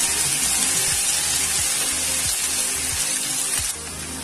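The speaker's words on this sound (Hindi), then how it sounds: "ये हमने 300 ग्राम प्याज लिया है। इसे चला लीजिए और प्याज को हमको हल्का सा रोस्ट करना है।" 300 grams of onions lightly roasting in a hot pan on the stove, giving a steady, dense sizzle and crackle throughout, with faint stirring scrapes and a slight drop in intensity near the end.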